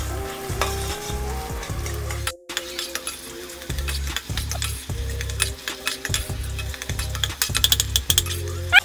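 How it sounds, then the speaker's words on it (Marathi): Tomatoes fry in oil in a kadhai until soft, with a steady sizzle under repeated stirring and scraping strokes and a brief gap in the sound partway through. Background music plays throughout. "टोमॅटो पण चांगले आपण असे सॉफ्ट होईपर्यंत फ्राय करायचे"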